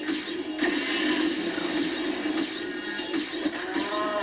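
Cows mooing in the Spyro 3: Year of the Dragon video game, drawn-out lowing calls that overlap each other under layered game music and effects.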